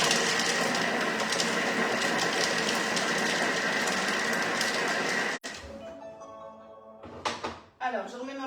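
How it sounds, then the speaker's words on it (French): A Thermomix blends a honey mustard balsamic vinaigrette at speed 4, a loud steady whirring roar lasting about five seconds that stops abruptly, followed by quieter kitchen clatter and a few knocks. "On va venir maintenant mixer ça."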